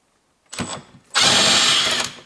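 Electric screwdriver fitted with a socket undoes a bolt on a BMW 3 Series side mirror: a short whirring burst, a brief pause, then a longer steady close-up buzz of about a second.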